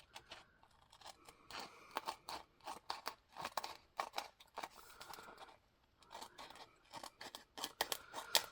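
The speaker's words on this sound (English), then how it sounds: "So I'm just going to be very careful and cut right along this edge." Scissors snip through sticky planner material along an edge, a close run of crisp, crunchy cuts in irregular bursts, with a short pause midway before the snipping resumes.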